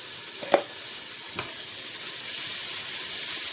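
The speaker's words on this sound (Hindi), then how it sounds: "जैसे ये गोल्डन हो जाए तो उसमें 1 टेबलस्पून भरकर हम इसके लहसुन अदरक की पेस्ट डालेंगे" Onions frying with garlic ginger paste in a pot for Balochi lagan gosht, giving a steady, close sizzle with two brief stirring clanks early on, and no speech.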